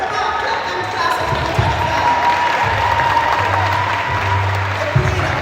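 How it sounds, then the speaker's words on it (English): An audience claps and cheers at a medical school pledge ceremony, a dense sustained roar of applause with crowd noise, occasional thumps and a voice speaking over it. "Come on, clap them, class of"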